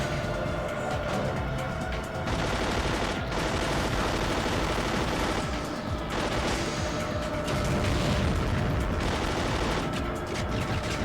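Rapid automatic gunfire from the PS2 shooter 007: Agent Under Fire, sustained bursts of shots with crashes and booms, loud and continuous.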